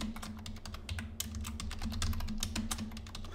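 Someone types a new password on a computer keyboard: a quick, uneven run of crisp key clicks at close range, with brief pauses between bursts and no talking.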